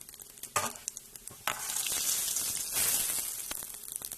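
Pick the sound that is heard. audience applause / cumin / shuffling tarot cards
cumin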